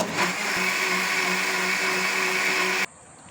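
A mixer grinder blending banana juice with sugar whirs loudly and steadily for about three seconds, then cuts off abruptly, leaving near silence.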